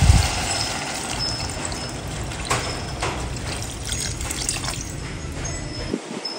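Water is poured into a pan of pork humba, a close, steady splashing pour with dripping and sizzling that stops abruptly near the end.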